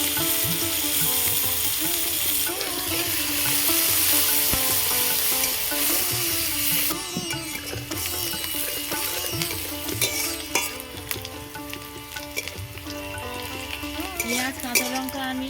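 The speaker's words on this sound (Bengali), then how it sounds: "ওই তেলের মধ্যে আমি গোটা জিরে ফোড়ন দেব পেঁয়াজ কুচি দেব লঙ্কা কুচি দেবো" Whole cumin seeds, chopped onion and chopped chilli sizzle in hot oil in a pan. The frying hiss is loud and continuous, with stirring scrapes and clinks throughout.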